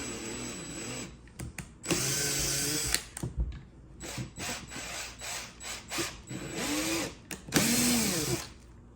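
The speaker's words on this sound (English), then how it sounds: "I'm going to go ahead and drill both sides." A power drill bores into a part of a 1/6 scale tracked bulldozer model in several short whining bursts, close and fairly loud, with clicks and handling noises between runs.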